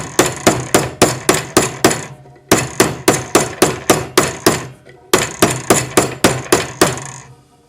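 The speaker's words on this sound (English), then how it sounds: "So just hammer straight down into the groove and move your piece underneath." A hammer strikes a metal bangle straight down into a groove in rapid, even blows. It sounds close and loud, in three runs of about seven or eight ringing hits, separated by short pauses.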